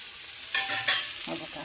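Peeled, washed taro leaf stalks hit a hot pan over lowered gas for a spicy stir-fry, sizzling steadily at close range with soft stirring scrapes and brief bursts of crackle, no voices.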